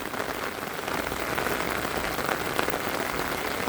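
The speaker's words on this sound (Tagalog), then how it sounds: "sobra pong lakas ng ulan" Heavy rain pours steadily, a dense, loud hiss of drops hitting surfaces with no pauses.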